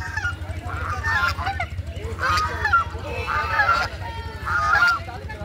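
Ducks honk loudly in repeated bursts as they are fed biscuits outdoors, with calls overlapping over a steady low rumble and faint voices in the background.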